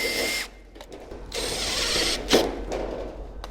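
Power drill driving a screw into the bottom corner of a steel shed wall, two or three short whirring bursts with brief pauses and a sharp knock between, fairly close.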